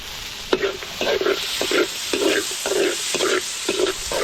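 Garlic and onion sizzle steadily in a hot pan while a spatula stirs them in a regular rhythm of scraping strokes, close and moderately loud, with no talk.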